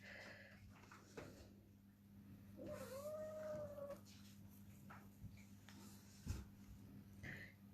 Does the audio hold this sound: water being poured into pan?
no